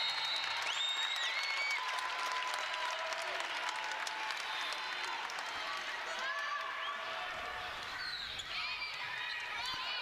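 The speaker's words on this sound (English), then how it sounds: "The Panther crowd exuberant." A home crowd at a college volleyball championship final cheers and applauds in a sustained roar with shoe squeaks, while an announcer talks over the noise.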